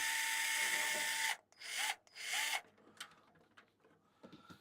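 Screw being driven into a plastic part during an electronics repair, heard as a continuous whirring drive that stops, followed by two short bursts of driving and then scattered small clicks and taps nearby.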